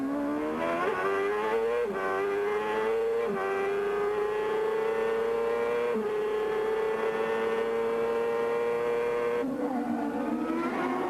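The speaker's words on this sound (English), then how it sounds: "the V8 Honda engine certainly was sounding fantastic from the onboard camera there with Jimmy Vassar." Onboard Honda V8 engine of a 1997 CART race car at Surfer's Paradise, a loud sustained high-pitched scream that climbs steadily through the gears with brief dips at each shift, close and continuous throughout.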